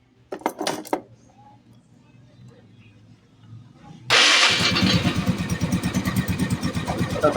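Yamaha Mio Sporty scooter engine, after an oil pump repair, is started after a few clinks and quiet moments, then settles into a loud, steady, close idle.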